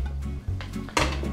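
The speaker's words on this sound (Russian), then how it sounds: "Возьмем нашу тарелку." A plate lifted out for serving carbonara pasta clinks and scrapes against other dishes in a quiet kitchen, a few short ceramic knocks ending in one sharper clatter, close and fairly soft.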